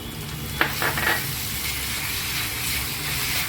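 Coriander sizzles in a hot pan with garlic and ginger, a steady close frying hiss with a few soft scrapes of stirring over it.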